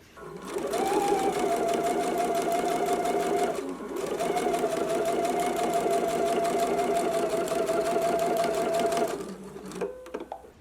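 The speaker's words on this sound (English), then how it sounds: "then we will stitch it" A sewing machine runs in two long steady bursts stitching a narrow hem, with a brief pause between them and a few small handling clicks at the end.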